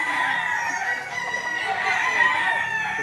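A rooster crows among young chickens for sale at a rainy Lipa City, Batangas market, the call loud and sustained over steady clucking and poultry noise, with faint voices in the background.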